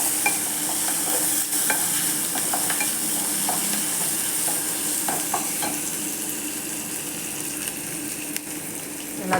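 Paneer gravy with spices, ginger and garlic sizzles in a frying pan while a spoon scrapes and stirs through it, a steady close frying hiss with scattered clinks, no voices.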